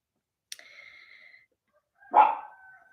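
A neighbor's dog named Pepe gives two short barks outdoors, a sharp one followed about a second and a half later by a louder, rougher bark, with quiet gaps around them.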